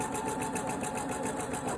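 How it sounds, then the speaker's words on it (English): A home sewing machine stitches bias tape onto fabric, giving a steady, even mechanical whir and rapid needle patter that runs continuously at close range. "as you're pinning it, just lay it down and then stitch"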